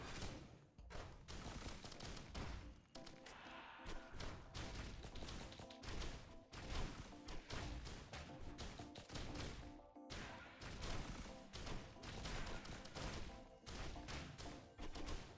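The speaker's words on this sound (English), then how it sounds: "those rockets are harsh" Rockets explode again and again in the video game Risk of Rain Returns, a dense, continuous barrage of crashes and blasts heard faintly at a distance, with no voices.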